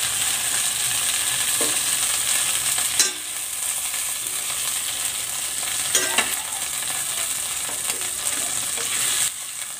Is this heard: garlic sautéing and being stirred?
yes